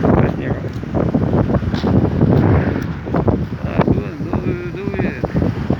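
Blizzard wind blowing snow in Kryvyi Rih in December, loud gusty rumble buffeting the microphone, with people talking faintly over it.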